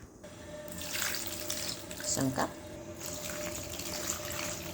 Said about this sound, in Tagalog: lalagyan ko na lang ng tubig at ready pa kulo na.